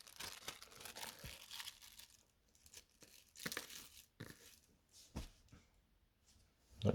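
A foil Pokémon Eevee Heroes card pack being crinkled and handled, quiet close bursts of crackling and tearing-like rustles separated by short pauses.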